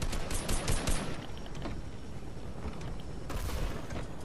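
Rapid gunfire bursts from Fortnite crackle loudly at the start, then give way to noisy mechanical rumble before another burst near the end.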